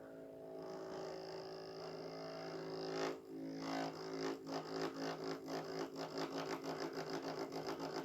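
A Lima Class 47 OO gauge model locomotive runs, giving a faint motor whir that turns into a rhythmic, pulsing chug after a few seconds.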